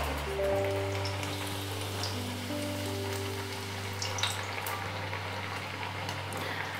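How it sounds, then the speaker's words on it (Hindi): A puri half-fried in hot oil in a kadhai makes a steady, close bubbling sizzle that runs unbroken throughout, with a faint low hum beneath it. "ये देखिए, अब इसे भी मैं हाफ फ्राई करूंगी।"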